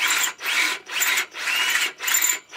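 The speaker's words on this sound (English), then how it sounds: "I'm not just keeping the drill bit going at full speed," A power drill bores a hole through the wood of a bunk bed, grinding in about five bursts separated by brief pauses as the bit is eased back and pushed in again, close and fairly loud.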